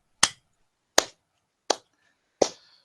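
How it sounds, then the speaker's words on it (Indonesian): Four sharp hand claps, evenly spaced about three-quarters of a second apart, crisp and close with nothing else around them. "saya menggunakan tepukan tangan saja"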